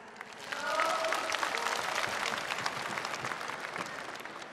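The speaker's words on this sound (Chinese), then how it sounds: "亚美尼亚小姐，请掌声欢迎一下。" Applause from a crowd at a beauty pageant welcoming Miss Armenia to the stage, swelling after a brief voice and holding as steady clapping, with speech faintly mixed in.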